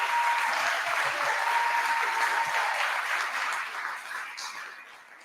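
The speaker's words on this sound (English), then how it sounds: "Let's give them a round of applause again." Audience applause after a college choir performance at a Black History convocation, steady dense clapping from a large crowd that stays fairly even and then gradually fades toward the end.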